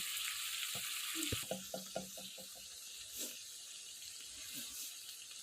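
Stuffed bitter gourds fry in oil with a soft hiss while a utensil turns them. Several quick scraping clinks come in a short run, then the quiet sizzle carries on alone.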